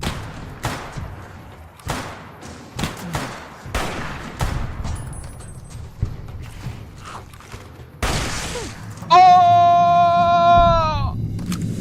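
Gunfire in the video game Fallout New Vegas: a string of sharp, uneven shots with thuds in between, followed by a louder burst and a rising tonal whine near the end, close and loud.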